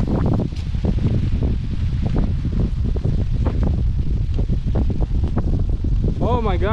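Wind blows hard across a lakeshore where canoes sit during a Boundary Waters trip from Gunflint to South Lake. It roars and buffets the microphone continuously, with a faint voice at moments.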